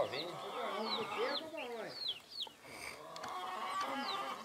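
Chickens clucking on a farm where giant Indio Gigante roosters and a turkey roam, busy overlapping clucks and calls, close and continuous, with a person talking underneath.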